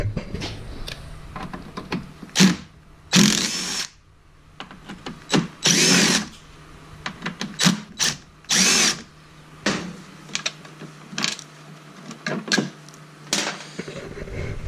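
Power drill backing three Torx bolts out of a door lock mechanism on a 2004 Chevy Avalanche, heard as repeated short whirring bursts with pauses between them, close and loud, with no talk.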